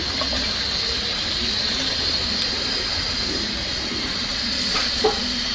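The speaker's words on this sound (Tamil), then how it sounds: "அந்த தண்ணி தான் ஊற்றுறேன்" Water pours steadily into a pot of sautéed chicken for chicken biryani, a continuous gushing fill sound with a faint sizzle and a couple of small clinks.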